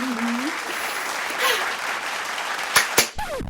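Applause breaks out in a staged scene, a dense close burst of clapping running throughout with brief vocal sounds over it near the end.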